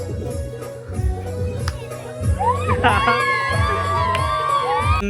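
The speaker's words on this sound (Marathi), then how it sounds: "बघा बेकार जल्लोष" A crowd at a village haldi wedding celebration cheers, shouts and whoops over loud thumping dance music, with whistles and excited voices rising toward the end.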